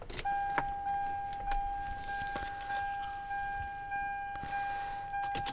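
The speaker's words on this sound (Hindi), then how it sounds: "मैं जैसे इसमें चाबी लगाता हूँ तो जो स्टीयरिंग है इसका वो अपनी जगह पे एडजस्ट होता है।" Inside a Toyota Land Cruiser Cygnus 100 Series, a key goes into the ignition with faint jangling clicks while a steady electronic warning chime tone holds and the steering column adjusts with a soft motor whir.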